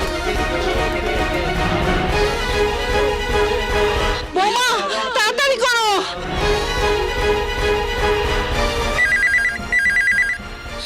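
Telephone ringing in a Bengali movie scene, a loud, sustained electronic ring over background music with a brief break, then a higher repeating ring tone near the end.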